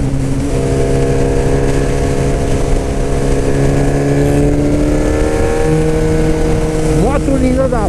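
A loud Suzuki B-King motorcycle engine revs and holds high, its pitch climbing and dipping, then a sharp rev rises near the end.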